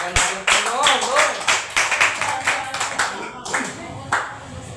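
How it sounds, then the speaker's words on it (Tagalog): A church congregation claps together in a steady rhythmic beat, loud and close, with a voice talking over the clapping. "Huwag po natin tipirin yung ating palakpak. Palakpakan natin po, Lord."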